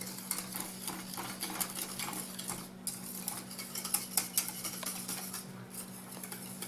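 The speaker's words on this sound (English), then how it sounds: "Just keep mixing it just a little bit longer until it's just a little bit thicker." A utensil stirs a thickening mixture in a pot, scraping and clinking steadily against the metal sides with a busy, continuous rhythm and close, moderate loudness, over a low steady hum.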